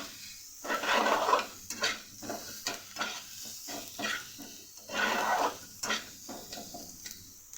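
Small fish pieces being fried in a pan with turmeric, salt and green chillies, giving bursts of sizzling and clattering utensil scrapes and stirring in uneven waves, close and fairly loud with no talking.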